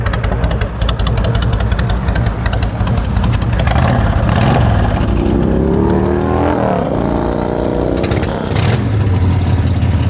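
A Honda VTX1300C cruiser motorcycle with Vance & Hines long shots exhaust runs loud and close, a deep throbbing idle rising through a couple of revs and settling back down.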